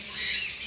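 A parblue ino opaline pet parakeet gives a short, harsh squawk, close and fairly loud with no talking.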